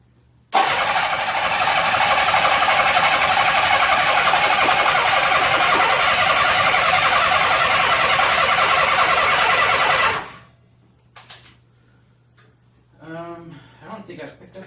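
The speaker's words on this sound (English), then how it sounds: "we're just going to have to crank it till she's got fuel." Car engine cranking on the starter after a head gasket replacement, a loud steady churning that runs about ten seconds without catching, then stops, followed by faint clicks and brief talk.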